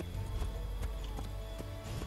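Horse hooves clip-clop in a steady galloping rhythm while riding in the video game Assassin's Creed 3, continuous and fairly loud over a dense low rumble of game sound.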